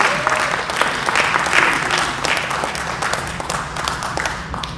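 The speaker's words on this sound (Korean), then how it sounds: "뜨거운 박수 한번 부탁드리겠습니다." An audience in a convention-center conference hall applauds at a book concert as a demonstration team steps forward, a full, steady wash of clapping that starts loud and slowly tapers off, with no talking.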